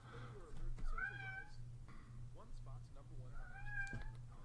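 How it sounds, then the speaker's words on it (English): A cat meows in an office, several drawn-out mews, a few short chirps between them, faint behind a steady low hum, with a sports talk voice running underneath. "so if you hear the meowing in the background"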